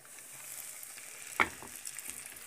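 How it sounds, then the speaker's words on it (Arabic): Flour-dredged tilapia dropped into hot oil, a soft background sizzle that bursts into a sharp, loud spatter as the fish goes in, then settles into steady frying with small crackles. "بنفضه طبعا من الدقيق، واحطه في الزيت على طول"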